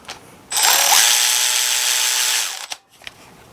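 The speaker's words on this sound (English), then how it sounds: "So this is the high-speed ratchet" A high-speed ratchet, used in home-building a 1,000hp LS engine, whirs loudly and steadily for about two seconds as a single continuous burst, then winds down with a few small clicks and knocks.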